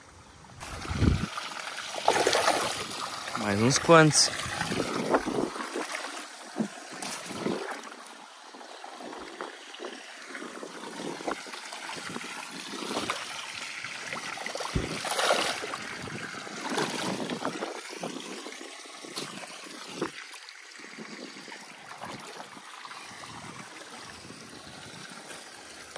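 Water running out of a draining fish pond, a continuous outdoor rush and trickle throughout, with people talking nearby and some splashing.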